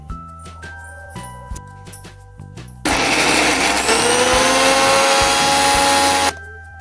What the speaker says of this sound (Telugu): ఉప్పు వేసాక మిక్సీ పట్టుకోండి